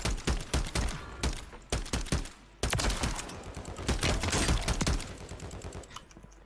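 Rapid bursts of marksman rifle fire in the video game Warzone 3.0, sharp loud cracks in quick clusters with brief pauses, continuing for several seconds before trailing off.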